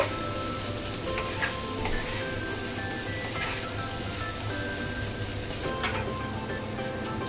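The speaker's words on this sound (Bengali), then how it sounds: "আলুতেও সামান্য নুন আর হলুদ দিয়ে দেব আলুটাকেও লাল করে ভেজে নেব" Potatoes with salt and turmeric frying in oil give a continuous close sizzle with occasional stirring scrapes throughout.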